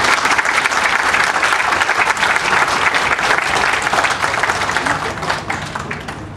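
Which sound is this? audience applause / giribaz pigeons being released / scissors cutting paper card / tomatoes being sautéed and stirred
audience applause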